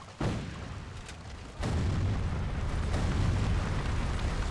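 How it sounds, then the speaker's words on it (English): Grenade blasts in an Xbox 360 Civil War video game: two heavy bursts, one near the start and a bigger one midway, each followed by a sustained rolling rumble, with no talking. "Grenade, grenade, grenade."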